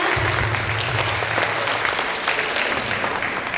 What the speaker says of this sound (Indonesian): Tepuk tangan dong untuk semuanya.